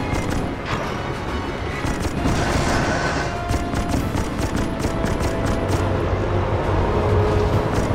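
Rapid continuous gunfire in a naval combat video game as guns fire at incoming bombers, a dense rattling barrage over mechanical rumble that stays loud throughout, with no speech.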